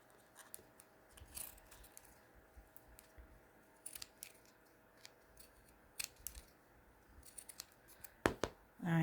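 Scissors snip through fabric in short, crisp cuts spread across a quiet stretch, with a louder clack near the end, while fabric flowers are made by hand.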